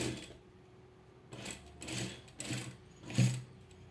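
A sewing machine stitches lace onto a blouse in short bursts, its whirring mechanism speeding up and stopping several times in an uneven rhythm, close and moderately loud with no talk.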